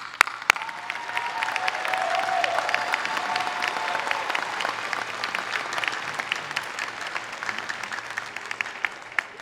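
Sustained applause from a large audience at a Muskegon Community College commencement ceremony, steady dense clapping filling the hall for nearly ten seconds, moderately loud and unbroken.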